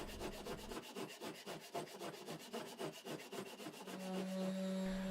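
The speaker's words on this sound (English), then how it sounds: "the easiest way to get rid of that excess material would be to use my orbital sander" An orbital sander grinds excess material off a soft swimbait master, making a close, rapid rhythmic rasping that gives way to a steadier hum near the end.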